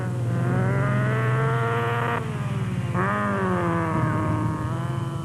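An off-road race car engine drones loudly near the finish line with a steady, buzzing roar, briefly dropping out and then surging back, with no talking.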